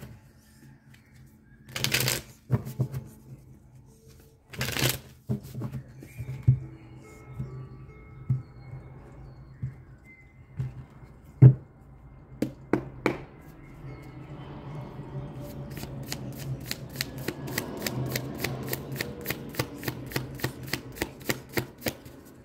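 Tarot cards being shuffled by hand, with scattered riffles and taps early on, then a long rapid run of crisp, evenly spaced card flicks building toward the end; no talking.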